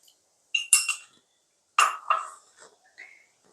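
A spoon stirs thickened milk, reduced from about one litre to half, in a pot while making shahi tukra. Two short clusters of metallic clinks and scrapes sound against the pot, each followed by quieter trailing clinks, with no voices.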